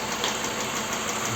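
Toyota Highlander U50 with a 2GR-FKS engine running with a knock, a loud, steady close-up mechanical drone and clatter with no talking.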